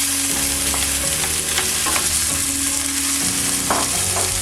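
Onions fry in olive oil in a pan with a loud, steady sizzle and crackle, broken by the scrape of stirring, with no voices.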